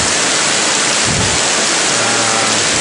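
Heavy rain pours on a hillside at Bukit Guling Ayam in Gombak, a steady dense roar of drops that fills the whole stretch with a low rumble beneath, with no voices.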